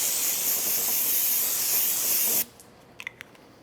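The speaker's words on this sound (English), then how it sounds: "get your can of brake cleaner and give it a good spray down" Aerosol brake cleaner sprayed from a can onto drum brakes, a loud steady hiss that stops abruptly, followed by a few faint clicks and drips.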